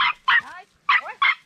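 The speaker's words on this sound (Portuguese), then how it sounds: "Que latido" A small dog on a camping trip on an island in the Rio Uraricoera barks in quick, loud, close yips, a pair of sharp barks, a pause, then two more.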